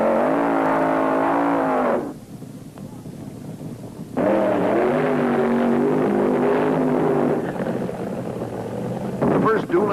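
1970s funny car drag racers roar through burnouts at a drag strip, loud engine wails rising and falling in two long bursts separated by a brief lull, with a crowd-like wash underneath.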